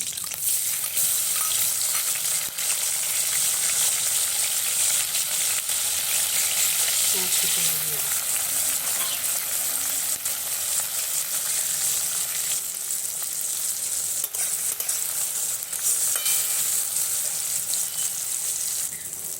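Black cumin, whole chillies and chopped tomato sizzle steadily in hot oil, a continuous loud frying hiss with brief stirring scrapes, no talking.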